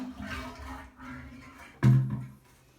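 A bucket of water dumped all at once into a toilet to flush it without running water: a sudden loud splash and gush near the end, after quieter rustling, then a short fading swirl.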